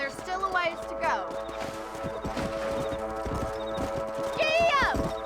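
Horse hooves clip-clop steadily on a trail in Red Dead Redemption, a rhythmic near gallop over ambient game sounds, with a whinny-like tonal sweep at start and end.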